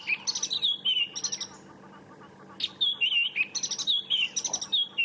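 Robins sing in the South African bush at sunrise, clear whistled phrases repeating in bursts with short pauses, fairly close and alone against a quiet background.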